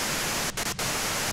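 Radio white-noise static in the Disco Elysium video game hisses as a dense, even wash, broken by two brief dropouts near the middle before resuming unchanged.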